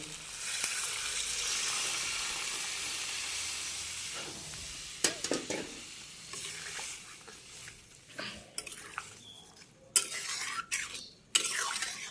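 Hilsa fish with taro frying in a pan over a wood fire, a steady sizzle that swells as water is poured in, followed by scattered clinks and stirring scrapes of a utensil against the pan.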